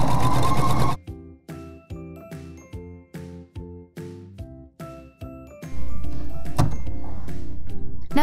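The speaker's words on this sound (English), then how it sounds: "set up our straight stitch machine, and let's sew this stocking together" A straight stitch sewing machine sews a fabric Christmas stocking with loud, close running bursts, then a row of rhythmic single stitches before it speeds up into a steady run.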